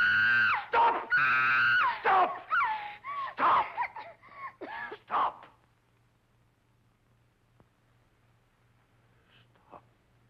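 In a film scene, a woman lets out several loud, anguished screams in quick succession over about five seconds, then breaks off into near silence with a faint low hum.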